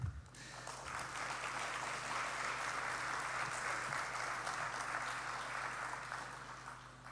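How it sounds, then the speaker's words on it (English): An audience at an international prehistoric and protohistoric sciences conference closing ceremony gives a steady round of applause for participants and organizers, sustained and even for several seconds before tapering slightly, heard from within the hall. "I think we can applaud them all."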